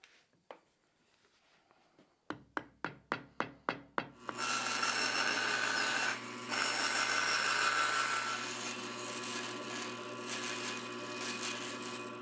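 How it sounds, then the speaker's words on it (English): A CNC router fitted with a circle jig cuts an acrylic bobbin plate for a pickup winder: a quick run of sharp, evenly spaced ticks, then a loud, steady cutting roar that carries on to the end. "I'm gonna put the Circle Jig on, load in the template, and we're going to cut the bobbin plate"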